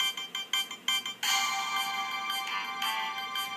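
Tinny synthesized MIDI music from a Sound Blaster 128 PCI sound card on a Windows 98 Compaq Deskpro EN, bright tonal notes, a few short staccato hits at first, then a sustained melodic passage, with no voices.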